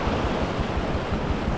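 Whitewater rapids on a wilderness river in the Yukon, a loud, steady broadband rush of churning water that continues without a break and sits close to the listener.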